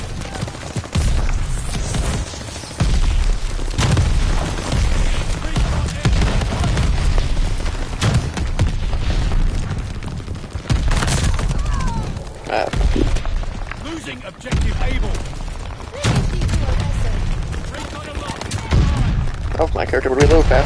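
Rapid, loud video game gunfire fills the stretch in dense bursts and booms, with someone talking over it.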